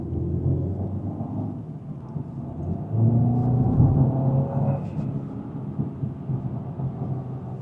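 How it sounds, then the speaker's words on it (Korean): A BMW 220 M Sport Design driven in sport mode, heard from inside the cabin as a steady low engine and road rumble that swells briefly midway, then settles back to an even drone. "일단 지금 스포츠 모드로 주행을 한번 해볼게요"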